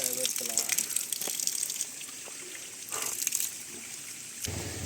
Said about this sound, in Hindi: ये है नेचुरल पानी,